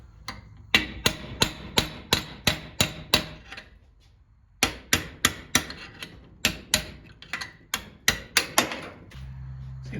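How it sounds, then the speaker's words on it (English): Sharp metallic hammer blows strike the front bearing of a cart wheel in two quick bursts of about seven or eight evenly spaced hits each, close and loud, with a short pause between the runs. "I'm gonna try to beat the front bearing out."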